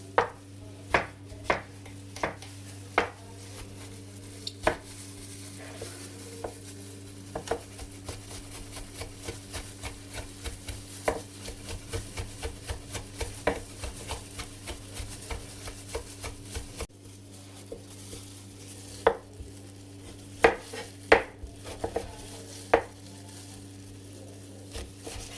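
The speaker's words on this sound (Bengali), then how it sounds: "এখন টমেটো চপ করব।" Knife chopping tomato on a cutting board for a tuna pizza, a long run of sharp, close taps, sometimes quick and clustered, sometimes spaced out, over a faint steady hum.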